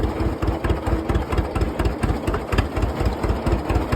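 A John Deere B tractor engine runs unevenly with weak compression on one cylinder, a loud, close, lopsided chugging beat thumping steadily throughout the four seconds.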